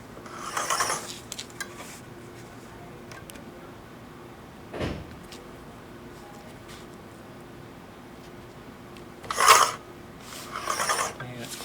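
Rotatrim rotary paper trimmer cutting: a few short rasping, sliding strokes separated by quiet gaps, close and fairly soft.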